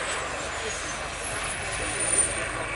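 Model aircraft engines drone steadily at a model air show with wing-walker models, a continuous distant buzzing hum with no clear breaks.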